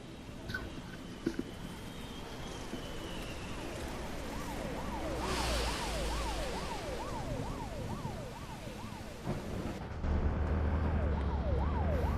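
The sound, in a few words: ambulance siren in a video game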